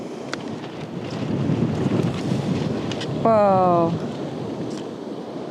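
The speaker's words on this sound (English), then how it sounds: "bit windy." Strong wind buffets a microphone on a remote beach in Baja, a steady roaring rush with gusts. A person gives a brief exclamation partway through.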